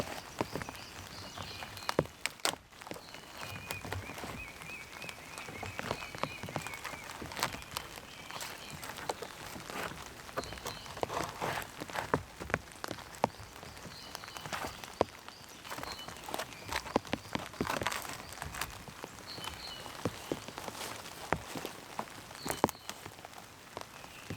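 Rain falls on a bark and moss roofed shelter in the woods, a faint, irregular patter of drops with scattered louder taps and soft rustling throughout.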